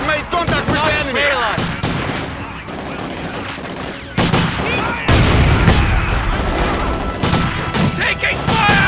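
Gunfire rattles through a Stalingrad battle in the Company of Heroes video game: dense, continuous volleys and bursts with heavier impacts, while shouted voices break in over the din.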